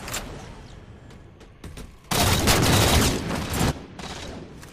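Gunfire in Halo 4 SWAT multiplayer: scattered shots early, then a loud, dense burst of rapid firing lasting over a second, tapering into quieter shots and game noise.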